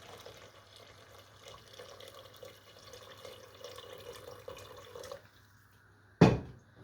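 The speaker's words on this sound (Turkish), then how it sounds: "Şimdi hiç içinden bunu çıkarmadan hemen mercimeğimizin içine dökeceğim." Bone broth poured into cooked lentils for a Turkish noodle soup, a soft continuous trickle of liquid that ends after about five seconds, followed by one sharp knock.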